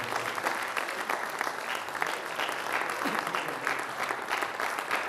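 An audience at an international poetry mushaira in Bahrain claps in a sustained, dense burst of applause, fairly close and steady throughout with no talk over it.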